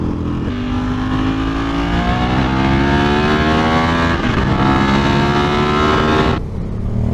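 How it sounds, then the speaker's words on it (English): A Ducati motorcycle engine, loud and close, with a steady rumbling burble whose pitch climbs smoothly as it accelerates, then cuts off abruptly near the end. "Listen to the Ducati burble."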